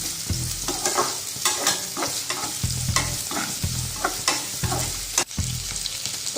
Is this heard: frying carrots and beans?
yes